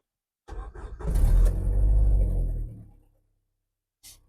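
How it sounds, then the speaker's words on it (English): A car engine cranks briefly, catches and runs loudly for about two seconds before settling and cutting off, followed by a short faint noise near the end. "Let's go ahead and start it."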